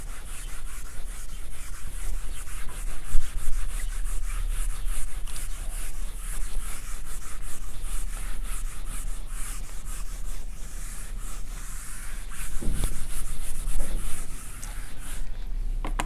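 Steady scratchy rubbing as writing is wiped off a board during a math lecture, continuous and close, with a few louder knocks and strokes and no speech.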